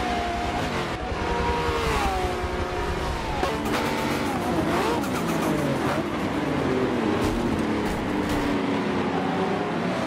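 A race car engine in Forza 7 at Circuit de Catalunya screams loudly and continuously, its pitch rising and dropping through gear changes as the car powers down the backstretch, with no talking.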